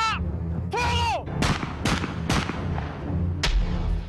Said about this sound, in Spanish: No fue una descarga, fueron disparos, 1 a 1 o 2 a 2